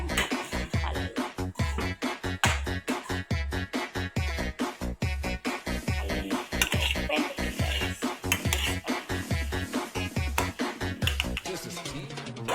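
A utensil stirs vegetables with soy sauce in a pan, scraping and clattering against the metal in a fast, steady rhythm, close and loud throughout.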